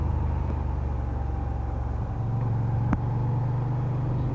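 Engine of a 2021 Moto Guzzi V7 Stone motorcycle on the road while weaving through traffic, a steady low rumble that shifts pitch slightly midway, heard up close without talk.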